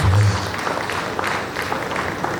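Audience applause at an investiture ceremony for a chairman of the NITP Lagos Branch, a steady wash of clapping from a crowd that holds roughly level throughout.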